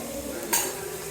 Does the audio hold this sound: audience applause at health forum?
no